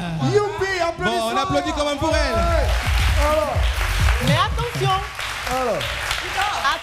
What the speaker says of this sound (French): on applaudit quand même pour elle.